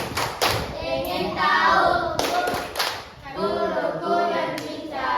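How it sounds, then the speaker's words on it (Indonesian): A class performs tepuk konsentrasi, a rhythmic concentration clap in an Indonesian classroom. Groups of crisp, loud hand claps come in patterned bursts, mixed with children and a teacher speaking and chanting. "kita coba tepuk konsentrasi"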